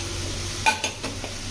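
Spoon stirs spices into a vegetable palya in a pan: a few sharp scrapes and clinks over a soft, steady sizzle, close up and without speech.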